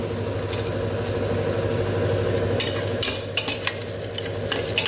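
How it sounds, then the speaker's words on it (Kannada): Four onions frying in a pan for ghee rice, a steady close sizzle and crackle with scattered sharper pops of stirring toward the end, no talk. "ಸ್ವಲ್ಪ ಒಳ್ಳೆ ಫ್ರೈ ಆಗಬೇಕು ನೀರುಳ್ಳಿ. ಒಳ್ಳೆ ಫ್ರೈ ಆಗಲಿ."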